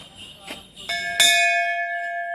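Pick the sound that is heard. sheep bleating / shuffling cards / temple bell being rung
temple bell being rung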